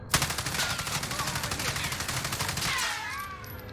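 AUG rifle fired while aimed down sights in Warzone, a rapid sustained burst of evenly spaced loud shots lasting several seconds, followed by a fading ringing tail.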